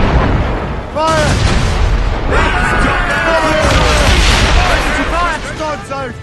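Ship cannons boom in the game Assassin's Creed Rogue, heavy broadside blasts rumbling under shouted crew voices and battle noise, with a dense loud mix throughout.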